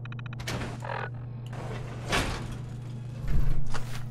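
A sliding door opens in the video game Fallout 4, heard as a few soft mechanical whooshes over a steady low electrical hum, with a louder swell near the end.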